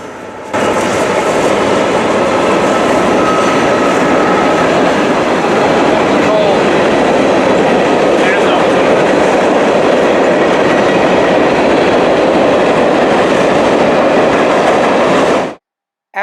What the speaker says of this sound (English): we can see a southbound coal train on the CSX Hocking Valley line